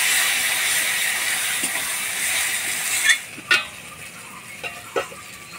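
Spice paste with garlic, turmeric and salt stirred in a hot pan, a steady hiss that drops away partway through, then a few separate scraping strokes of the spoon.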